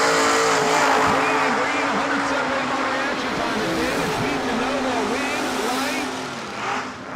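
Drag racing at a New Year Nationals meet, a clean Chevy II Nova and a 1965 Pontiac GTO, with loud, continuous engine roar that holds steady for several seconds before fading slightly near the end.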